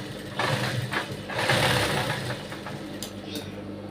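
A sewing machine stitching fabric pieces together, a steady motor whir with light rhythmic needle clatter running continuously at close range, no talking.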